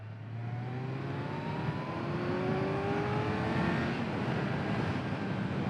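A 2022 Kawasaki Z900 motorcycle accelerates steadily on an open road, the engine note climbing through the revs under constant wind rush, loud and sustained without a break.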